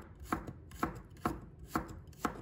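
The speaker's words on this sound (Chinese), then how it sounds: "再准备一把大蒜，给它切成蒜片" A knife slices a handful of garlic cloves on a board with five evenly spaced, crisp chops about half a second apart, close and fairly quiet, with no talking.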